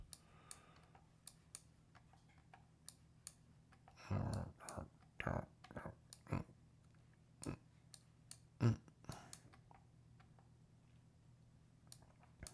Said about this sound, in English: sorry, bad mouse clicking